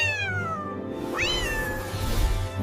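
A cartoon cat meows twice in a children's phonics lesson, each a bright, sliding cry over a steady musical backing and with no talk.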